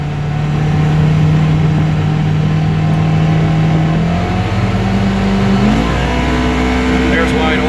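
A 2018 Polaris Ranger 1000XP side-by-side with an upgraded ECU and clutch kit accelerating at wide open throttle, a loud, steady engine drone that climbs in pitch, heard close from inside the vehicle.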